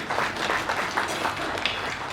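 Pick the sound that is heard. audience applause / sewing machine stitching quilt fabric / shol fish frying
audience applause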